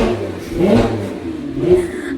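A Porsche sports car engine revving up and settling back, a throaty mid-pitched roar that swells twice, heard nearby and fairly loud.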